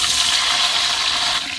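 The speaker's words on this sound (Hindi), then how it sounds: "थोड़ा सा पानी ऐड करते हैं।" Water gushes steadily into a pot of tempered rice in a home kitchen, a loud, continuous splashing pour lasting under two seconds, with no talking.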